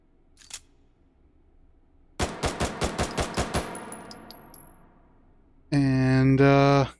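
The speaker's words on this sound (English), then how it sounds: "But it is a classic pistol." A classic pistol fires in a VR shooting game: a single click, then a rapid string of about eight sharp, loud shots with a ringing tail, and finally a dense mechanical whir, with no voices.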